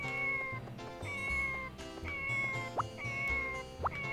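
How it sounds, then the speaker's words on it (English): Cats meow repeatedly in the Harvest Moon 64 farming game, giving several short rising calls over a looping game melody. "They're meowing."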